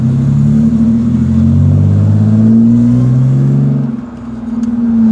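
A car's supercharged V6 engine accelerates hard, a loud, close, swelling drone that rises in pitch and dips briefly before building again, with no voices over it.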